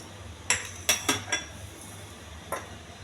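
Soaked chickpeas dropped into a metal pressure cooker, a handful of quick, close clinks and rattles in a short cluster, then one more faint clink after a pause, over quiet room hiss.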